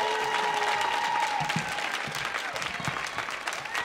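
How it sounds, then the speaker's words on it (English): Audience at a poetry commencement event on a performance stage applauding for a youth poet, sustained full applause from a crowd, with a faint tone fading early on. "please give one last amazing round of applause for Salome."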